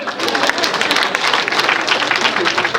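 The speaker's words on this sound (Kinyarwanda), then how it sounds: "Amashyi menshi cyane." Applause and clapping from wedding guests at a Rwandan wedding ceremony for the bride Alice and groom Jean de Dieu, a dense steady patter that fills the whole moment with crowd noise and some voices mixed in.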